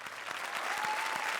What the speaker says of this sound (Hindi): एक आखिरी बार जोरदार तालियां परेश और भारती के लिए